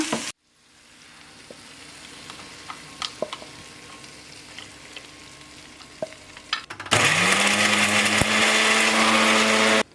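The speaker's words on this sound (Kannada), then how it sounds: "ತಣ್ಣಗಾದಮೇಲೆ ಮಿಕ್ಸಿಯಲ್ಲಿ ಹಾಕಿ ರುಬ್ಕೊಂಡ್ರೆ ನಮಗೆ ಚಟ್ನಿ ರೆಡಿ ಆಗುತ್ತೆ" After a quiet stretch with light kitchen clinks, a mixer grinder roars to life grinding green pea chutney, a loud steady whirring that continues to the end.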